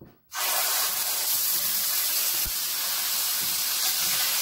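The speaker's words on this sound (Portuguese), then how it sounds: "Você passa os pedaços de frango aqui, poucos." Chicken pieces sear in an aluminum pan with margarine, a sudden loud sizzle bursting in and holding as a steady close hiss.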